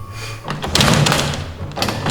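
Someone pushes a door closed indoors, giving a couple of loud, close thuds and knocks with a dull bump near the end.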